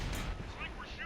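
A tank cannon shot in World of Tanks lands as a single heavy boom near the start, with a rumbling low tail and some fainter game noise after it.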